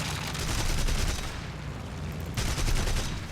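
Rapid aircraft cannon bursts during a dogfight in War Thunder, loud dense fire, one burst, a short pause, then another.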